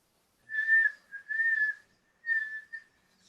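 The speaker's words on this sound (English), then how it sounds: "I know how to whistle." A person whistles in three short melodic bursts with brief gaps, clear and fairly close, with no talking.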